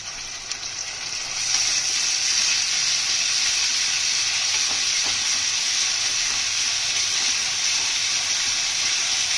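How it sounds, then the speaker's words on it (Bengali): Ginger garlic paste hits onions frying in hot oil and ghee for kima polao, raising a loud, dense, steady sizzle that jumps up after a quieter first second and holds without pause. "আমরা আদা রসুনের পেস্টটা দিয়ে দেবো।"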